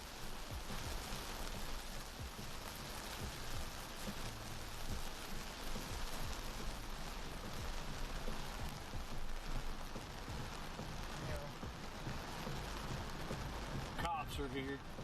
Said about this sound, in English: This is very high precipitation storm. You see the rain on the highways is nearly blinding.